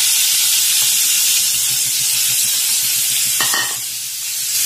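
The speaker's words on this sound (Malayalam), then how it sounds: "നമ്മുടെ എണ്ണ ഇങ്ങനെ ചൂടായി വരുന്നുണ്ട്. അതിലോട്ട് നമുക്ക് ഈ എടുത്ത് വെച്ചിരിക്കുന്ന കൂർക്ക ആഡ് ചെയ്ത് കൊടുക്കാം." Chinese potatoes frying in hot oil, a steady close hiss and sizzle throughout with faint stirring clicks, no talking.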